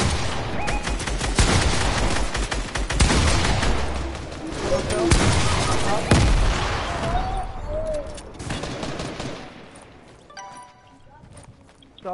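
Gunfire in a PS4 game, a series of loud sharp shots and rapid volleys in irregular bursts over several seconds, thinning out toward the end as game effects take over.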